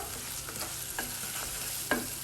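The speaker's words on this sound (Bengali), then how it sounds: "ভালো মতো করে নাড়া দিচ্ছি" A spoon stirs small mola fish and potato pieces in a frying pan during a home-style dopiaza, soft scraping strokes at a slow, uneven rhythm over a faint steady sizzle of frying, close and quiet, with no voices.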